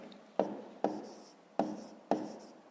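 Handwriting with a pen on paper, four distinct scratchy strokes at a steady rhythm, each starting with a sharp onset and fading, close and quiet with no voices.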